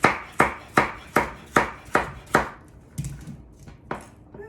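A knife chops a vegetable into rounds on a cutting board, six evenly spaced sharp thunks close up, then a few softer, irregular cuts and a final knock.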